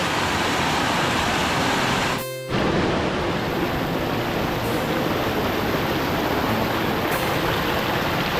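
Swollen monsoon floodwater rushes through a stream in the Konkan during heavy rain, a loud, continuous broadband roar close by with a brief dropout partway through.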